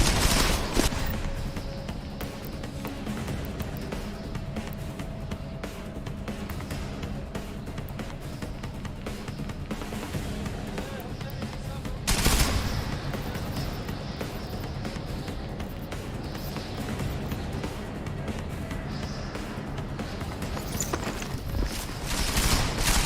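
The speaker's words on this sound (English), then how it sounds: "Lay down some cover fire." Dense, continuous gunfire from a firefight in the video game Deus Ex: Mankind Divided, rattling without pause for over twenty seconds, with one heavier blast midway and no voices.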